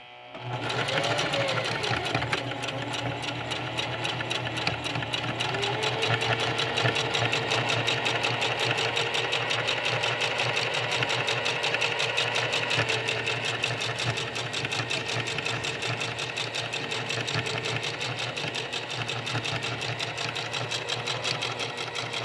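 A sewing machine runs steadily for over twenty seconds while stitching homemade cloth diaper inserts, a close, continuous whirring drone with a fast rhythmic needle chatter throughout.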